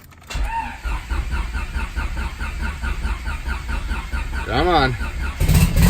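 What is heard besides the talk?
turbo Honda Civic engine cranking and starting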